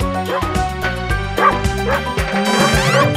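Sung, cartoonish dog barks in a German children's version of Old MacDonald, with a voice imitating the woofs over bright music.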